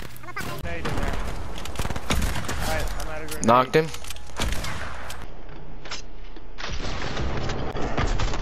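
Sniper rifle and other gunfire in OG Fortnite crack in rapid bursts, close and loud, under excited talk between players.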